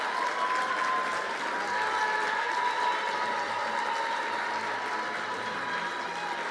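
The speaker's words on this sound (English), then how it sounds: "You can applaud." Steady, dense applause from an audience greeting an award recipient at a public administrators' forum, sustained evenly throughout at moderate distance with no voices over it.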